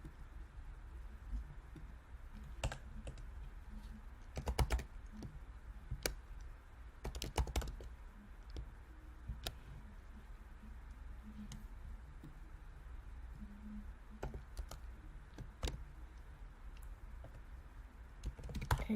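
Quiet tapping on a computer keyboard while writing CSS style sheet code, irregular keystrokes with occasional sharper clicks and short pauses, close and alone over a low background hum.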